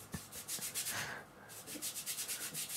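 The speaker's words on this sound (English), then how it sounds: "Scrubbing the paint in, so I scrub in most of my paint really when I first start" A paintbrush scrubs oil paint onto canvas in quick, even back-and-forth strokes, a soft rhythmic rubbing heard close up but quiet, with no voices.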